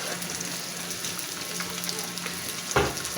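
Garlic and onion sauté in a pan beside hotdog and potato pieces, producing a soft, steady sizzle with light crackling and a brief stirring clatter near the end.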